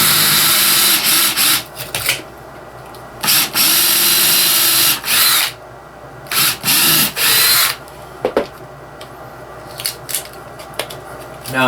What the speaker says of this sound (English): I'm just going to eye it up, put 4 screws in there.